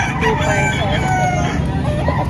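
A rooster crows loudly amid steady chicken clucking and general bustle at a live chicken market in Padre Garcia, Batangas, with a busy crowd background.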